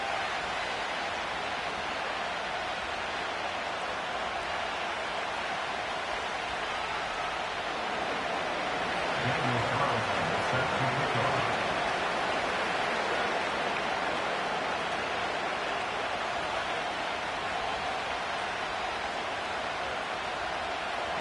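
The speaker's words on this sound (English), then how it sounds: "Ball is teed up as rain continues to fall" Rain falling steadily over a packed NFL stadium in Philadelphia, a dense, even hiss of downpour with a faint low crowd murmur swelling briefly midway, no clear voices.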